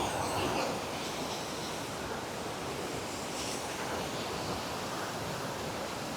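Water flowing in the stream below a double-decker living root bridge at Nongriat in Meghalaya, a steady broadband rush of moderate level with no speech.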